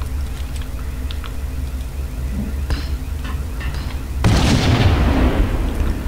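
Grenade explosions in the video game Max Payne: after a low rumbling game backdrop with scattered thuds, a loud broadband blast erupts near four seconds and decays into roaring debris noise.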